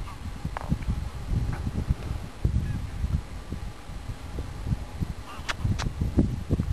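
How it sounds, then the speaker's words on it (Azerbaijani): Geese honk at Sarısu lake during a duck and starling hunt, with scattered calls at middle distance over a windy, rumbling outdoor background. "Gör hara təkildi qazlar."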